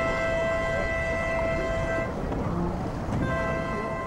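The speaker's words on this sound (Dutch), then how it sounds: "De start van de laser en de extra toeter wat betekent dat er in elk geval 1 boord toch te gauw over die startlijngang is" A regatta starting horn for the Laser class blasts a long, loud, steady tone, then falls silent and sounds again: an extra toot signalling a boat crossing the start line early, heard over wind and water.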